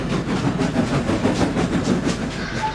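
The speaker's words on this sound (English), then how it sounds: "The two engines soon came clattering in with their goods train behind them." Two steam engines pull a goods train into a busy railway yard in the Thomas and Friends cartoon, heard as a steady rumble with rhythmic clattering of wagon wheels over rail joints at moderate distance.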